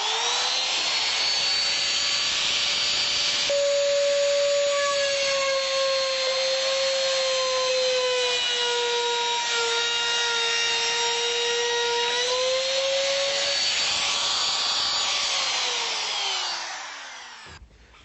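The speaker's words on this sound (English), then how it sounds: "use a template and the router with a bearing guided cutter. I just run round the template." A router with a bearing-guided cutter runs steadily around a template while a cabinet is being built, giving a loud, sustained high whine with one pitch drop partway through, then spinning down at the end.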